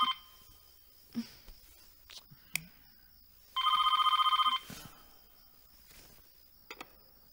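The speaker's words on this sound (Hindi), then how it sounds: "फोन उठाओ ना।" A telephone rings once in a short electronic trill, set against a quiet room with chirping insects and a few scattered knocks and clicks.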